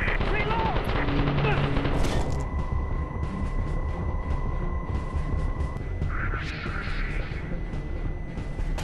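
Gunfire in the Call of Duty Strike Team video game, with dense continuous shooting and rumbling bursts over a steady hum, loud and close throughout.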